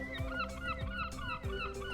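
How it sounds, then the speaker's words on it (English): Urban gulls calling in a steady, raucous chorus of repeated shrieking, honking cries, fairly close and loud with overlapping birds and no talk. "that shrieking loud sound of gulls"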